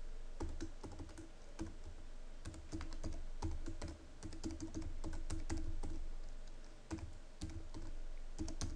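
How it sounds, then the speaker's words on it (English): Typing on a computer keyboard, entering a name into a Semantic Web interface: quick irregular key clicks in bursts with brief pauses, close and fairly quiet, no voices. "I must type the complete name."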